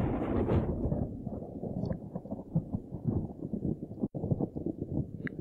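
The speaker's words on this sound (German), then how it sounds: "Donner." Thunder rolls in the city-building game Cities: Skylines as a deep, continuous rumble with uneven swells. It fades gradually toward the end.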